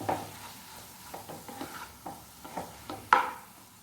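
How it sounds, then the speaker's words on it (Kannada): Cooked rice for restaurant-style chicken fried rice being stir-fried and mixed in a pan, with a soft steady sizzle under repeated scraping strokes of a spatula and one sharper clank near the end. "ಎಷ್ಟು ಬೇಕೋ ಅಷ್ಟು ಹಾಕಿ ಎಲ್ಲವನ್ನು ಮಿಕ್ಸ್ ಮಾಡಿ."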